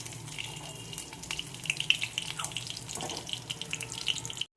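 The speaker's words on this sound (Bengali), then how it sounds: "এবার আমার ওখানে গরম জলে নুন ভেজানো আছে, এটার মধ্যে গরম জল আমি দিয়ে দিচ্ছি।" Hot salted water is poured onto fried paneer in a pan, a faint, steady running and splashing with small bubbling pops and sizzles that continues for a few seconds before stopping abruptly, with no talk.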